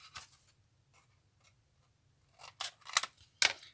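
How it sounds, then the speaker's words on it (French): Scissors snipping the corners off a small paper tab for a handmade Christmas mini album, a few crisp close cuts heard alone, one early then a quick cluster of three sharp snips near the end. "Donc ma petite languette, je lui coupe les coins."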